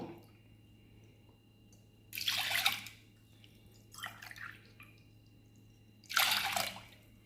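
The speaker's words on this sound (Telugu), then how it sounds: "గ్లాస్ కందిపప్పుకి 2 గ్లాసులు వాటర్ పోసుకుందాము." Water is poured onto washed toor dal (pigeon pea lentils) in three separate splashy bursts, each lasting under a second, over a quiet room hum with no talk.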